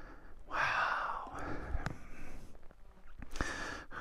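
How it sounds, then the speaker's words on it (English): Heavy, breathy panting after a climb on a Vancouver Island dual-sport ride, close to the microphone, with a couple of gasps and sighs and sharp exhales over quiet outdoor background. "Sorry for the heavy breathing."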